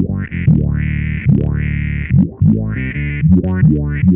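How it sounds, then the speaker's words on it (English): A bass guitar played through a Digitech Bass Synth Wah pedal on its synth 1 setting gives loud, distorted synth-like notes, each with a sweeping filter rise, in a run of repeated phrases with no talk. "So as you can hear, it's a lot more bassy."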